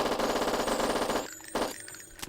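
Rapid automatic fire from an NP7 in a video game rattles off in a sustained fast burst, cuts out, then returns in two short shots, crisp and close with no talking.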